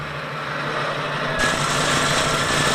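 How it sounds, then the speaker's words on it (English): An electric winch on a 1994 LSVW soft-top cable layer prototype runs at idle speed, giving a steady, fairly loud high-pitched motor whine, close by, that brightens partway through with no one speaking. "This is the electric winch."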